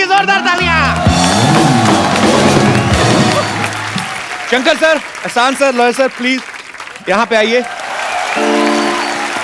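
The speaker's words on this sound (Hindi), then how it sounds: "जोरदार तालियां" Loud applause from a TV comedy show studio audience under music, then someone speaks over fading clapping.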